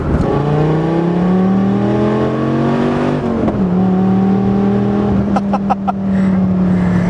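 A second-generation Dodge Viper with an 8.3-liter engine drives with a loud, steady low engine drone that shifts pitch midway, followed by a few brief clicks near the end.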